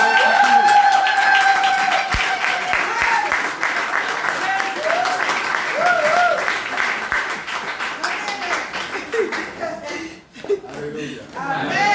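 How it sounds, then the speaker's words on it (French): Church congregation applauding and cheering during a Sunday service, continuous clapping mixed with voices, laughter and music, loud and close throughout. "levons-nous et sous vos acclamations,"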